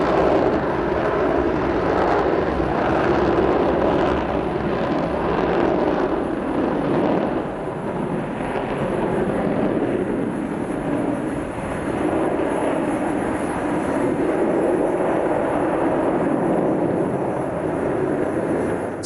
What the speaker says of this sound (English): there's this airplane travelling faster than a rifle bullet on the edges of space